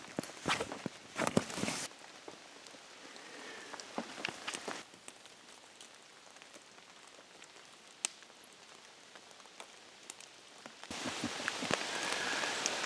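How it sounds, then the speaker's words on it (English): Rain patters on a tent in the woods, a soft steady hiss punctuated by sharper drops and taps, growing heavier and denser toward the end. "now it's raining pretty good again"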